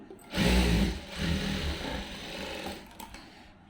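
Sewing machine stitching a blouse lining, a fast mechanical whirring run that starts abruptly, holds steady with slight wavering in speed, and slows before a brief stop.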